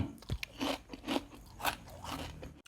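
A large sheet of crispy fried salmon skin with salted egg flavour, a Thai snack, crunches sharply in several close bites followed by steady chewing, with no talking.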